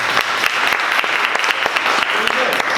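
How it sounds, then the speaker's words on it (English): Audience applause fills a comedy club, dense steady clapping from a crowd with some faint voices mixed in, holding at an even level throughout. "Clap if you're married"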